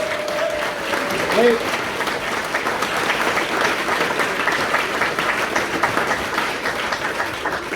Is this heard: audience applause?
yes